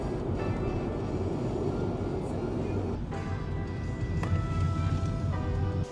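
A Metlink commuter train rolls along with a steady low rumble and broadband rail noise, plus faint tonal whines and squeals rising above it partway through, heard from on board.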